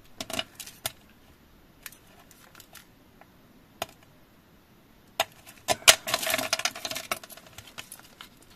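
Scissors snip through paper for a handmade scrapbooking card, giving sparse, close, quiet cuts at first, then a denser cluster of rustling snips and paper handling toward the end.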